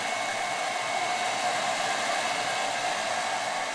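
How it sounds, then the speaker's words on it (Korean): Hair dryer blowing continuously at close range, a steady even whoosh of airflow with a faint motor whine, no voices and no pauses. "이제 그에게 드라이기는 멋을 내기 위한 필수품이다"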